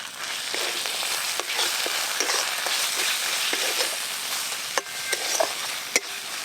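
Spice paste for koi fish malaikari with chilli powder, green chilli paste, sugar and salt, sautéed in a pan: a steady loud sizzle with scraping stir strokes and a few sharp clinks, no talking.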